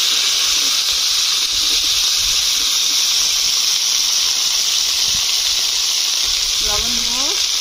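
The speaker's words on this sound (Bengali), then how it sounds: "তেল গরম হয়ে গিয়েছে, এবার কাঁকড়া দিয়ে দেবো।" Crab hitting hot oil in a home kitchen, setting off a loud, steady frying hiss that fills the whole stretch, with a brief voice speaking near the end.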